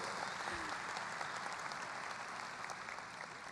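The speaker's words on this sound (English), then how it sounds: "Your parents are clapping." Parents clapping steadily at a high school graduation ceremony, a dense continuous wash of applause from a large crowd that holds an even level throughout, with no talking over it.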